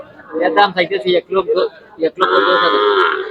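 Cattle at a Sahiwal cattle market in Habiganj, Bangladesh, one animal letting out a loud, sustained moo after a stretch of nearby talking among traders.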